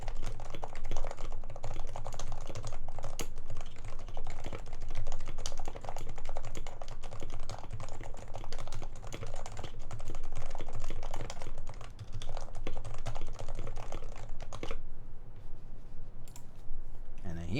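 Someone types at a fast steady pace on a Topper mechanical keyboard, producing dense, continuous key clacks with no pause until near the end, while a voice talks in the background.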